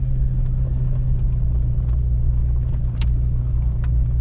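Stock Jeep Cherokee XJ in part-time four-wheel drive climbing straight up an off-road slope, a steady low engine rumble and drivetrain drone close by with faint rattles over it.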